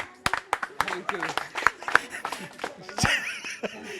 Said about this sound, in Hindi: चाचा ताली नहीं बजा रहे थे, खैनी ठोक रहे थे